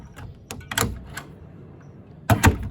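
A newly installed door knob and latch being tested on an old door, with several close metallic clicks and rattles of the handle and latch followed by a louder pair of latch clunks near the end.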